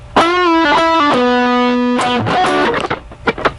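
A quick electric guitar lick with distortion: a rapid run of notes, a held note, then a flurry of fast picked notes trailing off.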